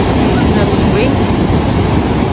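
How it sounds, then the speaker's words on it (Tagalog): Beach waves at Baler wash and roar continuously under heavy wind buffeting on the microphone, loud and close with no distinct breaks. "So many waves, no?"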